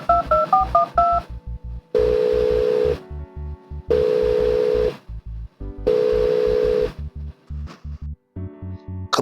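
A telephone dials a limo phone: a quick run of touch-tone beeps, then three long ringing tones with pauses between them, loud and clear and heard alone.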